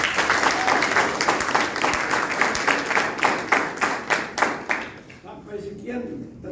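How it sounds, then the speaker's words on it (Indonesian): An audience breaks into thick, rapid applause that stays strong for several seconds, then thins out and fades, with a voice emerging faintly as the clapping dies away. "Tepuk tangan dulu."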